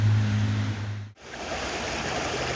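Water rushes steadily through a gold sluice outdoors, a broad continuous wash, with a low hum in the first second that cuts off briefly before the flow carries on.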